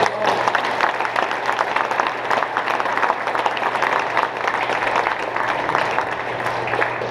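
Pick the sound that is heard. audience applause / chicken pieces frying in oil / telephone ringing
audience applause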